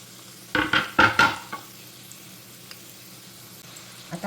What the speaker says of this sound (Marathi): आता हा कांदा आपण तेलावर चांगला परतून घेऊया।